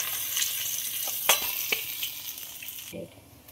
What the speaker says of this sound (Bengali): মাছ ভাজার জন্য কড়াই বসিয়েছি, তেলও দিয়ে দিয়েছি, আর ভাজার জন্য ছেড়ে দেবো।